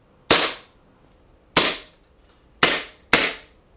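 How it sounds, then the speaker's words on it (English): Four loud, sharp gunshots fired at a XGODY S20 Mini phone, its camera and display as the targets, crack in close succession with short gaps between them and no talking. "Let's shoot the display a few more times."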